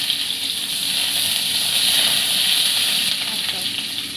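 Black cumin seeds and onions hit hot oil in a home kitchen pan while cooking a fish curry, producing a loud, steady, close-up sizzle and hiss that holds evenly throughout.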